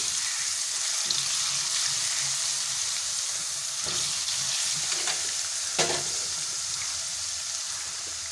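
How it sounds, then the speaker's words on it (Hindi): A steady, close sizzle of ginger garlic paste frying in hot oil, with occasional scraping stirs and small clinks. "अदरक लहसुन का पेस्ट डाल देंगे और इसको थोड़ा सा फ्राई कर लेंगे"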